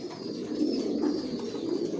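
Racer pigeons coo softly in a few low, rolling calls, close by and fairly quiet, with no one speaking.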